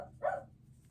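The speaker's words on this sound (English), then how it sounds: "And of course, Ollie's going to bark" A single dog bark rises briefly out of quiet room tone, close and moderately loud, with a faint low hum underneath.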